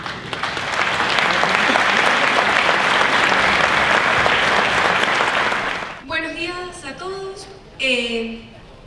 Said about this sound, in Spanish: La vamos a recibir con un fuerte aplauso, por favor